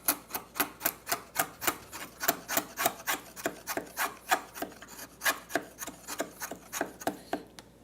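Hand chisel paring down an angled wooden tenon, a steady run of about two dozen crisp, close scraping strokes in a regular rhythm, each a short bright rasp with brief pauses between.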